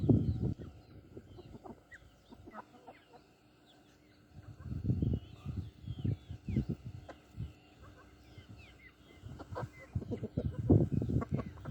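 Hens cluck and murmur in a farm yard among backyard poultry, soft intermittent calls rising in scattered bursts with a few brief louder clucks, moderately close.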